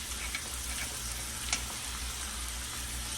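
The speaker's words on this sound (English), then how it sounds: "we're just gonna let it get a little seared on each side" Pot roast meat sears in a hot pan with a faint, steady sizzle and hiss that runs throughout, broken by a soft pop partway through.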